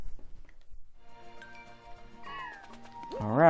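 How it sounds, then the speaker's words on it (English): Lost kittens meow in the video game Bowser's Fury, with several rising, pitched mews building toward the end over soft game music, growing louder and closer in the final second. "Lost kittens in the wasteland."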